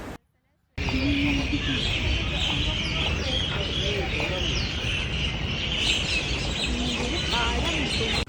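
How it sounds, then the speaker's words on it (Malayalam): Birds sing in the trees on a university campus in Chennai in the evening, with chirps and calls recurring over a busy outdoor background after a brief silent start. "നല്ല കിളികളുടെ നാദമല്ലേ."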